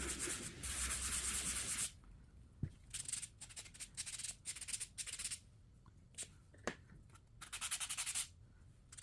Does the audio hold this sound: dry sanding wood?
yes